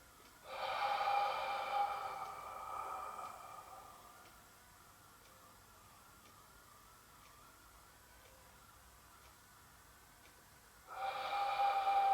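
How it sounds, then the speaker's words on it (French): Two audible nasal inhalations during a gentle gymnastics session, a strong sniffing breath near the start and another at the end, separated by quiet room tone with a faint tonal hum. "J'inspire par le nez."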